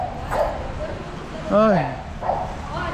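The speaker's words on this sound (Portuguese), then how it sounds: "Que cachorro chato, que demônio." A pet dog gives a single sharp, yelping bark mid-clip, close and loud, among people talking around it.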